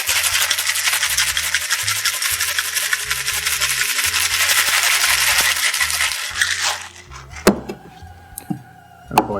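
Crushed ice rattling in a metal shaker tin for a Mai Tai, loud rapid rhythmic clattering and scraping for several seconds, then stopping with a few isolated knocks and clinks.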